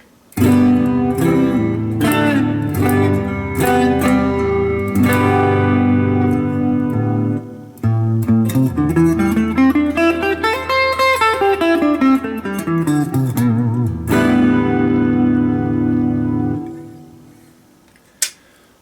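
Clean electric guitar on the neck pickup of an AIO Guitars Wolf WLP-750T plays chords and a rising-then-falling melodic run, with a soft reverb tail trailing each note, loud and close.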